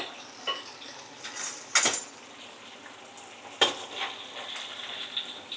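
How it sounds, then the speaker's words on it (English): Homemade potato chips sizzle and fry in a pan as they are tossed around, with soft scraping and a few sharp metallic clanks of utensil against pan over the steady frying hiss. "toss those potatoes around again"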